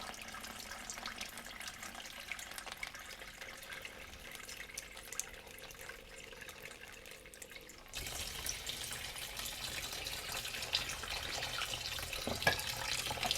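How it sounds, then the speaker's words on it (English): Tap water runs through a homemade water filter in a soft, steady stream, growing noticeably louder partway through as the flow increases. "I'll demonstrate now by showing a tap running through it."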